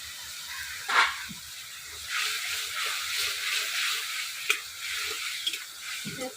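Spices such as cumin, coriander powder, turmeric and salt fry with tomato in a pan for a Bengali katla fish curry with potato and brinjal. A soft, continuous sizzle and hiss carries on, with a few scraping stir clicks, close and quiet.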